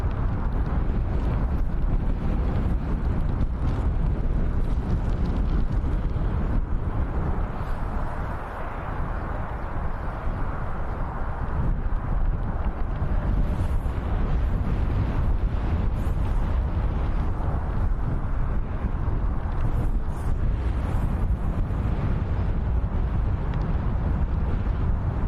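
Wind buffets a camera microphone at Birmingham Airport with continuous loud rumbling gusts that barely let up, and no other clear sound rises above them.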